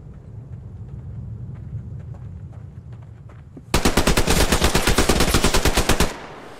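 AK-47 gunfire in the shooter game Fear the Wolves: after a low, steady rumble, a loud sustained burst of rapid automatic shots rattles for about two seconds, then cuts off.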